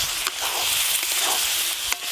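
A pan of dry potato curry bubbles and sizzles steadily, a close, bright frying hiss with a few small pops and no talking.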